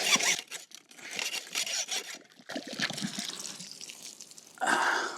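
Water drains from a freshly cut PVC pipe after the valve is shut off, trickling and splashing in uneven bursts with brief pauses, then a louder gush near the end, close and alone.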